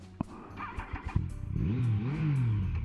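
A motorbike engine running with its exhaust baffle removed, a few sharp blips and pops and then a loud, close, rising and falling rev with no talk.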